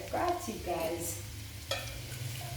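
Queen prawns, 400 grams of them, frying in a pan with a steady sizzle under intermittent talk, broken by a sharp scrape or stir partway through.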